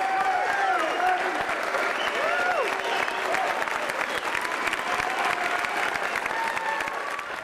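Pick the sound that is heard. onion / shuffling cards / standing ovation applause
standing ovation applause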